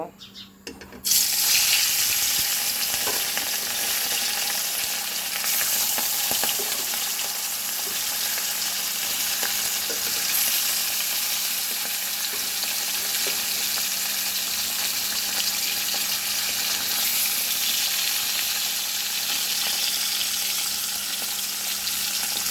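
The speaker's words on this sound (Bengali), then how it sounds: "মাছটা ভাজার জন্য কড়াইতে তেল গরম করতে বসিয়ে দিয়েছিলাম এখন আমি মাছগুলো দিয়ে দেব" Fish hits hot oil in a wok and sets off a loud, dense, continuous sizzle that begins abruptly and holds steady at close range.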